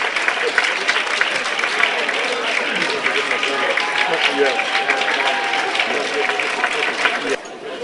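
A banquet audience at an NAACP life membership dinner claps as a man walks to the stage, a dense, steady burst of applause that stays loud before dropping off abruptly near the end.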